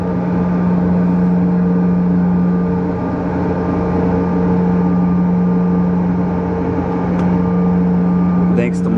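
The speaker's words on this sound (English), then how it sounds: "We got the engines running here." Engines idle with a strong steady low hum and a constant tonal drone, heard close and continuous, with a brief sharper noise near the end.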